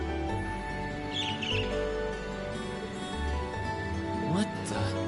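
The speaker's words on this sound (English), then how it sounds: "I was distracted by a strange bird sitting on that lamppost." A bird chirps in the Trails of Cold Steel video game, with short high tweets over a steady bed of game music and ambience, fairly soft against the background.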